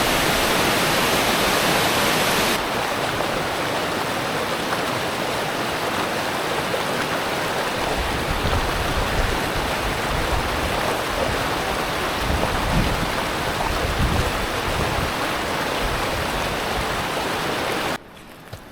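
Rushing water from waterfalls in Washington's alpine high country, a loud, steady broadband roar that carries on without a break and cuts off sharply near the end.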